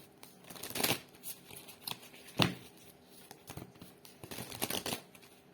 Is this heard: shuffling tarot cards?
yes